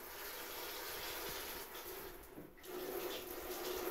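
NEMO Helio pressurized camp shower spraying water: a steady, close hiss of falling spray that dips briefly and then returns stronger.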